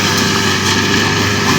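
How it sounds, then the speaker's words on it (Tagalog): Steady drone of a grass cutter engine running continuously at constant speed, loud and close, with a broad buzzing hum and no pauses. "Yan ay grass cutter natin."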